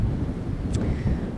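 West wind, the cers, blowing across an organic vineyard at Château Fabre Cordon in Peyriac-de-Mer, a steady low rumbling buffet of gusts against the microphone, loud and continuous.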